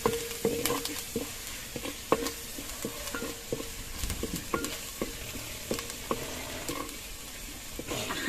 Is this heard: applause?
no